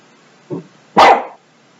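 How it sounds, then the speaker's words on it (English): A single dog barks twice nearby, a short soft bark followed by a louder, sharper one, with other dogs also barking somewhere outside. "Oh, my dog is barking."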